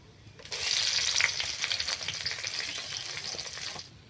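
Dried red chilies spluttering in hot oil alongside bay leaf and garam masala, a steady close crackling sizzle that starts abruptly and holds evenly with fine popping throughout, no voices.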